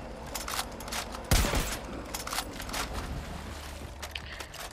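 Shotgun fire in the Far Cry 5 video game: a single sharp blast stands out against a dense, noisy background of game ambience and scattered distant shots.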